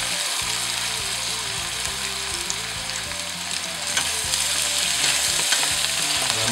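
Onion, peppers, eggplant and zucchini sizzle steadily in a pan for a samfaina, a constant close, loud frying hiss with soft stirring scrapes and no talking.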